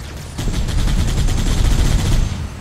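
Rapid automatic gunfire from allied soldiers in Halo CE, a dense, loud stream of overlapping shots sustained for about two seconds with no talking.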